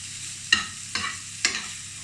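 Lean 5% minced beef dry-fries in a pan with no oil, a soft steady sizzle broken by three sharp spatula scrapes at even intervals, close and alone with no voices.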